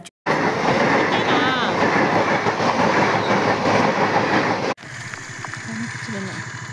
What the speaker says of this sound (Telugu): ఇక్కడ గేట్ వేసేస్తున్నారన్నమాట, ట్రైన్ వెళ్తుంది.